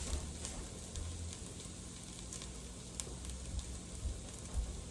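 Dry pasta toasts in a pot with a faint, steady sizzle and light crackle, plus a few soft taps of stirring. The sound is quiet and close, and no one speaks.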